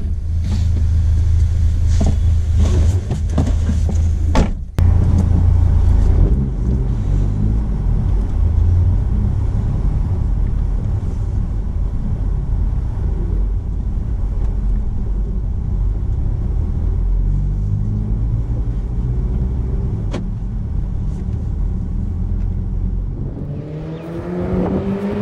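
A tuned Skoda vRS making about 300 hp drives along a rural Punjab road, its deep engine rumble and revs steady and close throughout, with a rev surge early and wind and road noise under it.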